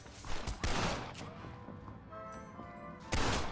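Gunfire volley in Red Dead Redemption: a sharp burst of several shots, a second loud ragged volley just after, then a ringing lull and one more blast near the end, close and loud.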